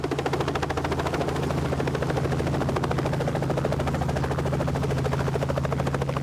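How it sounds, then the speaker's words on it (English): A helicopter's rotor thumps in a steady rapid chop with a constant engine hum, loud and close throughout, no voices. "It took the helicopter all day to ferry everyone"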